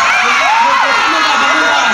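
A crowd at the AF8 birthday party entertainment event cheers loudly for Ton in a dense, continuous roar of shouts and whoops, while a host talks over it.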